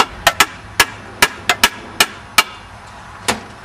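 Work on an automatic transmission case as its two halves are forced apart, a series of sharp, loud metallic knocks and whacks at uneven intervals, close by, with no talk.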